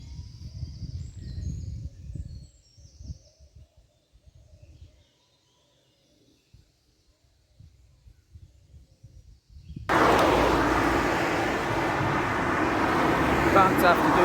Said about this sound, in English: Bound to have to do some main road walking sometime, won't I?